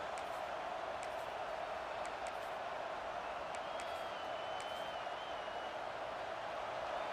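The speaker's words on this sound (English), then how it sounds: "This crowd trying to make life miserable for this offense." A college football stadium crowd roars continuously throughout, loud and dense, with a few faint sharp accents rising above the sustained din.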